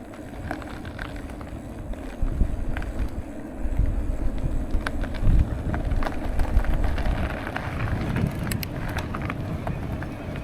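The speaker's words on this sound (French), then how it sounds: "Il y a assez bien de vent aujourd'hui." Steady rushing wind buffets the microphone on a mountain bike ride through a wooded Austrian trail, with gusts swelling after a couple of seconds and a loud, continuous roar throughout.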